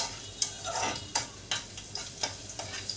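Chopped garlic frying in a hot pan for a broccoli dish, with a steady sizzle and repeated sharp scrapes of stirring at a quick, uneven rhythm, close and clear with no talk.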